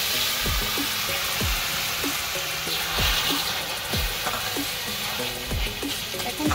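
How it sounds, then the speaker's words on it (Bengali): Chutney with dry fruits frying in a pan, a small splash of water added, sizzling steadily and close with a constant hissy wash and repeated soft knocks of stirring. "এখন আমি হালকা একটু জল দিয়ে দিচ্ছি"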